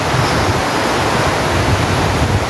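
Heavy rain pours down in a dense, steady roar, loud and close, with no breaks or other sounds standing out.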